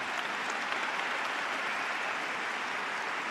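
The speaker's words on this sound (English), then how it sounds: "Yeah, you can applaud for that." Steady crowd applause fills a high school graduation ceremony for the Class of 2025 at Bridgeland HS, honoring honor graduates; a dense, even patter of many hands clapping continuously at moderate, distant volume, with no talk over it.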